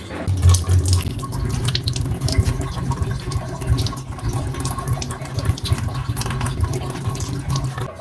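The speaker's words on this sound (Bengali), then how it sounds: "কাঁকড়াগুলোকে ধুয়ে পরিষ্কার করে নেব।" Crabs are washed under a running kitchen tap, giving a steady, close gush of water with splashing and sloshing that lasts the whole time and has no talk over it.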